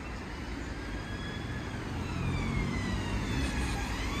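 An ambulance siren wails steadily in the distance as it passes through a bus station area in Chorley, blended with constant traffic and engine rumble.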